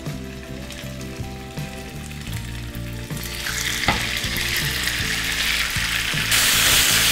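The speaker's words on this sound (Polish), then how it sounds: "Skwierczy, czyli mogę całego mojego kurczaka przełożyć na patelnię." Chicken pieces sizzle loudly in a very hot frying pan for a curry, with steady frying hiss that swells as the meat goes in, alongside occasional scraping and stirring clatter; no one speaks.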